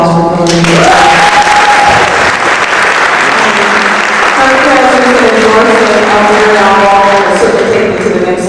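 A studio audience applauds for a guest on a Baltimore morning show, steady clapping through most of the clip, with a person speaking over it at the start and near the end.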